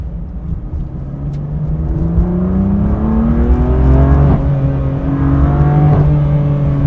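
A BMW M2 Competition engine revs hard under acceleration, its pitch climbing steadily through the gears to a screaming top end, with brief dips at shifts, loud and close from inside the car.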